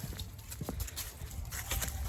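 Hooves clop irregularly on a hard surface as horses walk nearby, with scattered thuds and some background rustle.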